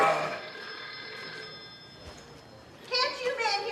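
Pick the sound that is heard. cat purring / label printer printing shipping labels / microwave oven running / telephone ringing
telephone ringing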